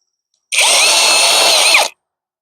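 A single loud burst of a power drill whirring for about a second and a half, starting and stopping sharply, drilling holes through a template into a wooden seat.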